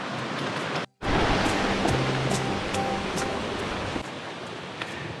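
A creek waterfall that once powered a brick mill pours in a constant broadband rush, loud and near, briefly cut off before resuming, with no talking.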